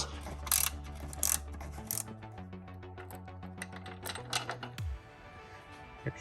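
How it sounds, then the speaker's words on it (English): Torx bit driver backing screws out of a Jeep Gladiator windshield frame gives a rapid run of mechanical ratcheting clicks with a low steady hum. It ends in a short downward sweep. "you need the 40-bit Torx bit from the Jeep tool set, and back these screws out"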